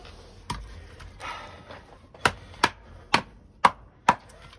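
A D2 steel chopping knife is batoned through wood, with a series of sharp, loud knocks: a few scattered strikes, then five evenly spaced hard cracks close by. No voice is heard.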